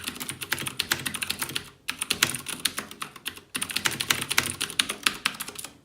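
Fast, loud clacking keystrokes on a new mechanical gaming keyboard, dense bursts of typing close up with two brief pauses between runs.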